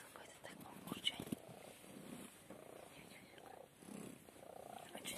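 A cat hidden under a bedsheet on a sofa purrs in a low, rumbling pulse, quiet and close, with faint murmuring and rustling of the fabric.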